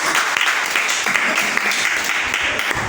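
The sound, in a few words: congregation applauding and cheering for the Lord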